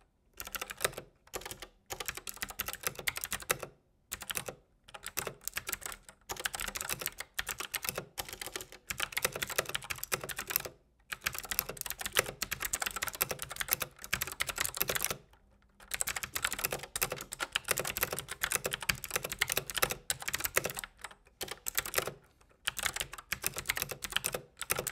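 Clicky blue-switch mechanical typing on a backlit keyboard with a built-in 12-inch touch screen: quick, close bursts of keystrokes broken by short pauses.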